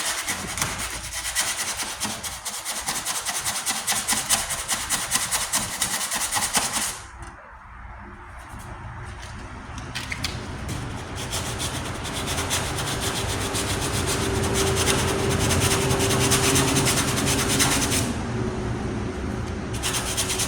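Sanding down bare metal on a 1998 Ford Ranger tailgate during rust repair, a continuous close abrasive rubbing that drops briefly, then returns steadier and louder.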